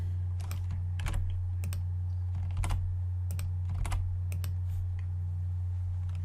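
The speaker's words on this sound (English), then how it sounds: "get her password in" Someone types a password on a computer keyboard: a handful of separate, crisp key clicks at an uneven pace over a steady low electrical hum.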